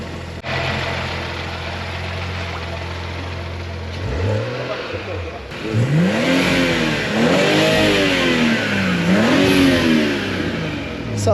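A BMW 114i converted with an M140i engine idles with a low rumble, then is revved several times, each blip rising and falling in a loud, close, swooping wave.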